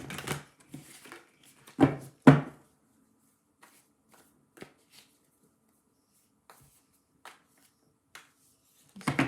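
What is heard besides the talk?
tarot cards being shuffled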